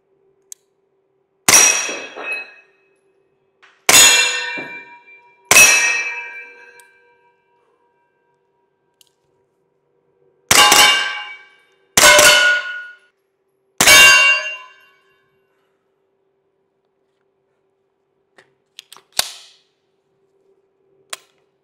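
Rapid gunshots from a Stribog AP9A3 pistol, fired in about six sharp reports, each followed by a ringing metallic clang. A faint shot comes near the end, and there is no speech.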